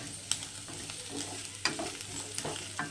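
Onion, garlic, ginger and green chillies fry in a pan for chicken sambar, a steady close sizzle broken by several sharp scrapes and clinks of a stirring spoon.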